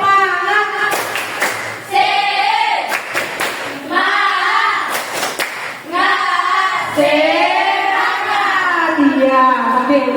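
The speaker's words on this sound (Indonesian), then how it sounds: "coba sebelum kelompok 3 ya, tepuk semangat." Classroom group performing a rhythmic spirit clap (tepuk semangat), with bursts of clapping and group chanting voices in a steady pattern, loud and close throughout.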